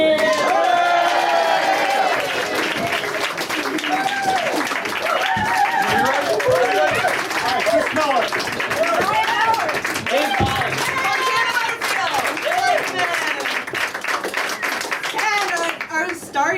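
An audience claps and cheers for the Armando Company improv troupe, steady applause mixed with whoops and excited voices from the crowd throughout.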